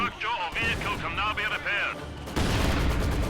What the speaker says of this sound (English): That was a nice grenade from those shock troops, wiping out that squad.